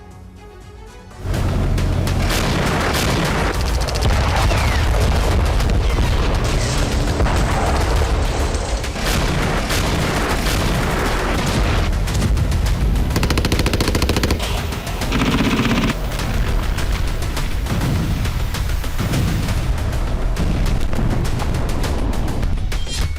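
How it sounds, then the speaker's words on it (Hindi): Battlefield in the Russia–Ukraine war, sustained loud bursts of automatic gunfire mixed with heavy booms and explosions, dense and continuous for over twenty seconds after a brief quiet start. "आसमान से मिसाइल और ड्रोन अटैक किया जा रहा है"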